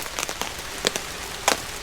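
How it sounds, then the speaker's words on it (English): Water drops falling from a wet morning sky land on a taut camping tarp overhead, a scattered, irregular patter with a few sharper, louder taps standing out over a soft continuous rain hiss. "You might not be able to hear anything other than the water drops on the tarp."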